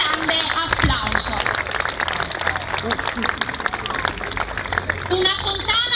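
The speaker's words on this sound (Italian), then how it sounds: "maestro Ruggero Di Lollo, al quale rivolgerei il primo grande applauso." Crowd applause at the outdoor inauguration of an artistic fountain in Gaeta, clapping mixed with chatter and children's voices, fairly loud and continuous throughout.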